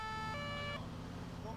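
A fire engine siren wails in GTA IV, its steady tones held and then stepping down before fading out, heard over a low continuous hum of engine and traffic.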